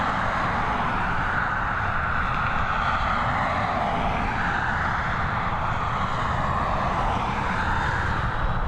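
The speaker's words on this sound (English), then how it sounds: "One of the last few flights of the day coming in on the North Runway there. Looks like an Airbus A320 to me, operated by Aer Lingus." An Aer Lingus Airbus A320 landing on the North Runway at Dublin Airport, a steady broad engine roar heard from a distance that swells and eases slightly throughout, with no voices.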